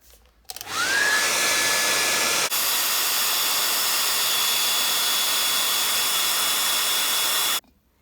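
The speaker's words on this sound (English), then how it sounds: "the hairdryer does get really hot" A hair dryer switches on with a rising whine, then blows a loud, steady hiss for several seconds before cutting off abruptly.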